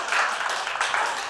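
A church congregation claps during a testimony, a dense, steady wash of applause filling the short stretch without any voice over it.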